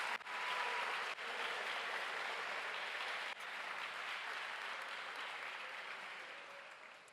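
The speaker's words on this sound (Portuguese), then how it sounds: "Vamos aplaudir esses amigos por nós," Sustained applause from a large church audience in an indoor sports court, a dense steady wash of many hands clapping that holds for about seven seconds and slowly tapers toward the end.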